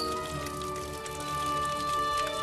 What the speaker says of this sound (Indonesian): hujan deras pun turun diikuti suara guntur yang menggelegar